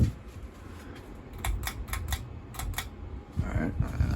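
Vintage ceiling fan in a historic theatre and church, running on high with a steady airy whir and a burst of rapid clicking rattles in the middle, under a voice nearby.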